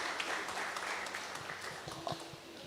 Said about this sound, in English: let's give a round of applause to Mr. Rashad Joseph.